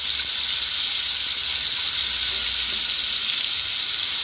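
Ginger garlic paste frying in oil in a pan, giving a steady, close sizzle with bright hissing that holds evenly throughout.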